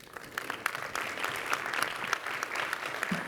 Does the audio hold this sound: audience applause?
yes